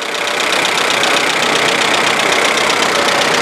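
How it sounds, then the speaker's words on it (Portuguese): Fiat car engine idling while running lean, a steady close mechanical hum with a faint rhythmic knock, heard alone without talk. "Mas em marcha lenta, tá ficando pobre direto."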